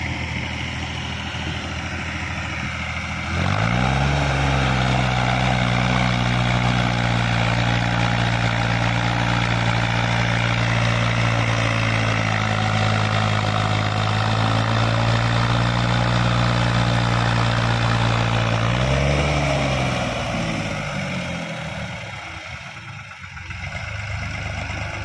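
A loaded tractor's diesel engine starts up and runs at a steady, heavy low rumble close by for most of the stretch, then winds down near the end, with no talk over it.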